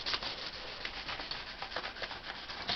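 Fine 1500-grit sandpaper rubbing a Coleman CPR 247 lantern part, a close, steady rapid back-and-forth scratching with no pauses.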